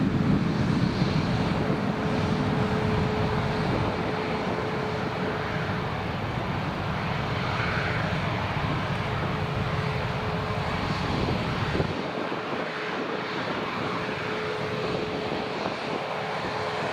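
An Emirates airliner rolls on the runway at Newcastle Airport, its engines giving a continuous distant roar with a faint steady whine, the low rumble easing off near the end.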